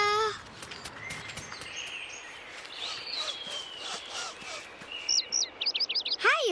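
Birds chirp and tweet outdoors, with repeated short high calls growing busier toward the end and faint rustling in the background.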